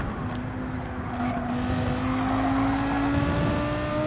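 In Gran Turismo 7, a damaged race car drives away with a steady, close engine drone whose pitch climbs slowly as it accelerates, with no breaks in the sound.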